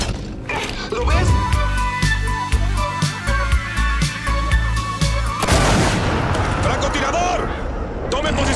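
Sniper gunfire in the Gears of War video game: sharp repeated shots crack at a regular pace over a dense, loud battle soundscape, followed by a heavy rumbling burst, with voices present in the mix.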